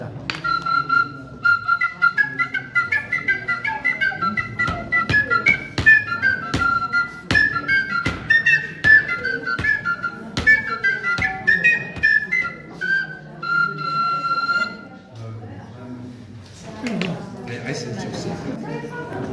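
A Romanian fluier shepherd's flute plays a lively melody of quick, bright notes at a rural Oltenian pig-slaughter feast in Drăgășani, with voices chattering around it; the tune stops near the end as talk continues.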